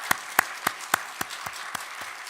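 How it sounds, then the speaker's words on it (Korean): A church congregation claps in unison, nine sharp, evenly spaced claps in a steady beat that fade slightly toward the end, with no talking. "우리 하나님께 박수를 영광 돌리겠습니다."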